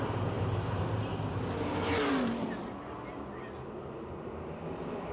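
Race cars circle the oval at Pennsylvania Motor Speedway near Pittsburgh, a steady wash of engine roar with one car swelling loudly as it sweeps past midway before the noise settles back to a duller drone.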